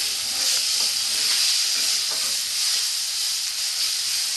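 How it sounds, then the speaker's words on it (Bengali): Spice masala sizzles and fries in a pan while being cooked down for mutton keema with kabuli chana, a steady, close hiss with faint stirring scrapes underneath and no talk. "এটা মশলাটা বেশ ভালো করে একটু কষবো"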